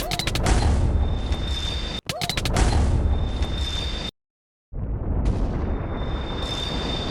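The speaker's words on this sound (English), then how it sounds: "placed the end crystal, and blew it up" End crystal detonating in Minecraft, a loud, sharp boom with crunchy debris that fills the clip, broken by a brief cutout and then a second roaring burst of explosive noise.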